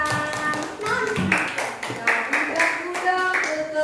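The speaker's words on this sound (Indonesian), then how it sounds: "Iya, tepuk tangan." Children clapping their hands in a rhythmic pattern, a run of sharp claps under and alongside a singing, chanting voice.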